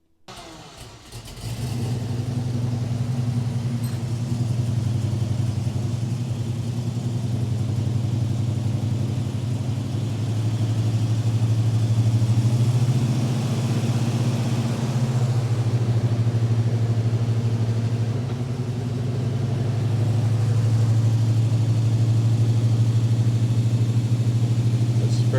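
A classic Mopar car engine cranks, catches and settles into a steady, fairly smooth idle with a deep rumble that swells slightly at times, running close and alone without talk.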